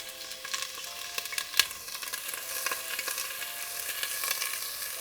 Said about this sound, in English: once our oil is hot, we're going to throw in the other half of our onion